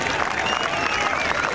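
A golf gallery at the 1990 Open Championship applauding Nick Faldo's approach shot on the 11th hole, a loud, sustained wash of clapping from a large crowd outdoors.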